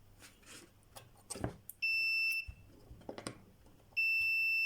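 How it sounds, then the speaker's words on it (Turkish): Two sharp electronic beeps from a multimeter's continuity buzzer sound, each a steady high tone lasting under a second, separated by quiet clicks and handling noises. "Bunu buzzer konumuna alalım."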